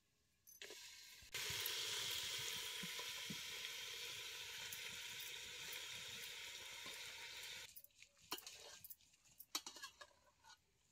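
Country chicken dropped into hot oil with browned onions over a wood-fired stove, bursting into a loud, steady, close sizzle that runs for several seconds, then fades into scattered clatter and softer frying.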